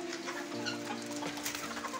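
A broody hen in a bamboo shed makes low, steady clucking sounds close by, a continuous soft murmur with no talking.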